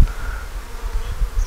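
Honeybees hum steadily at a triple-deep eight-frame hive built from a swarm, a dense, close buzz holding level throughout with no voices.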